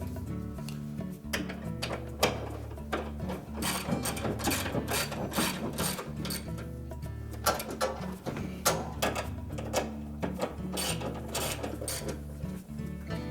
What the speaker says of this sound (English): Once we have all three bolts started, we'll go ahead and tighten those up.